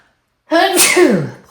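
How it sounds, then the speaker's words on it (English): A single loud, close sneeze after a moment of silence, a sharp burst that trails off quickly. "I'm waiting for the sneeze to come out."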